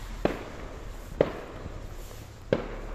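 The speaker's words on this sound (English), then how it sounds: "Trying to catch a bit of fireworks." Fireworks go off during Diwali celebrations in Derby, England, three sharp cracks spaced about a second apart over a steady outdoor background hum, moderately distant with no voices.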